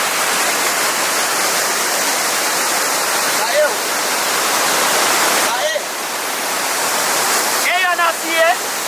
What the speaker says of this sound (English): Let's see waterfall.